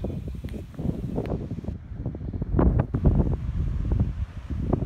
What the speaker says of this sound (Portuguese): Aqui em cima faz bastante vento, então esteja preparado, porque o vento é praticamente constante.